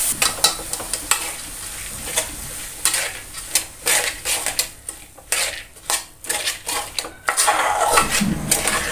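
A spoon scrapes and clatters in a pan as moth beans and potato are stirred into frying onion and tomato, irregular metallic knocks over a soft sizzle, close and loud.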